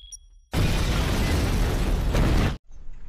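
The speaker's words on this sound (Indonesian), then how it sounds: "Don pun membuat ledakan" A sudden loud explosion in the film Don, a thick roaring blast that bursts in after near silence, holds for about two seconds and cuts off abruptly.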